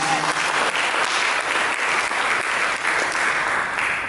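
Sustained audience applause fills a church service, a dense, even wash of many hands clapping at steady loudness from start to finish with no talk over it.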